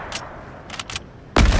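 Shots from Fortnite gunfire aimed at a helicopter: a few quick bursts, then a louder, heavier blast at the end, close and sharp over a quiet background.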